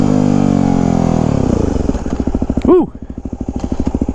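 A Yamaha WR250X motorcycle engine roars loudly and steadily, then drops into a choppy, pulsing rev during a wheelie while the rider lets out a brief whoop.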